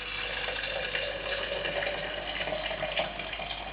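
Freshly boiled water, still near boiling, pours steadily over rosemary and thyme herbal tea in a teapot, making a continuous close splashing gush that holds even throughout with no talk.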